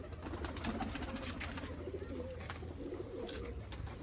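Pigeons coo softly and repeatedly at a moderate distance over a steady low background murmur, with a few faint chirps.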